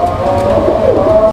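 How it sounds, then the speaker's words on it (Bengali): Fancy pigeons kept as a pair at a bird sale give a brief, loud, close cooing call lasting about a second, with no talk over it. "কবুতর দেখেন"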